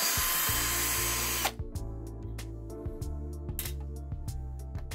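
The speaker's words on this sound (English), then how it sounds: "To take out the front cover of the speakers, we need to unscrew these screws." A power screwdriver unscrews screws from a JBL Bar 1000 soundbar, starting with one long whir and then a series of short bursts with brief pauses, close and clear with no talk.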